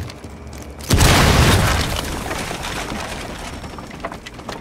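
A breaching charge detonates in Rainbow Six Siege with a sudden loud boom, followed by a long rumbling, crackling decay of debris that fades over several seconds.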